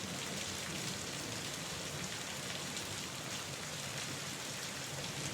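Steady rain falls without a break, a soft, even wash of drops at a moderate distance, fairly quiet and with no voices or other sounds on top.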